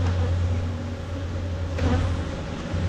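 Honeybees droning steadily around an opened hive during beekeeping, a loud, continuous close-up buzz with a low hum underneath and no talking.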